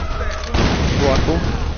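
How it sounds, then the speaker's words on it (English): A sudden heavy boom from an explosion in the video game Tomb Raider bursts in after a short rumble, followed by crackling, debris-like noise, loud and close. "Explosions."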